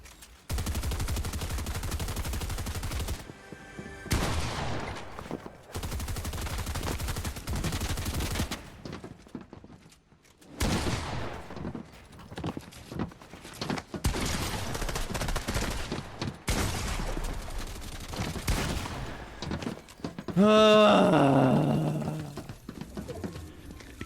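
Gunfire in the video game Fortnite crackles in repeated bursts of rapid shots over about twenty seconds, close and steady with short gaps, and a brief squeaky game effect near the end.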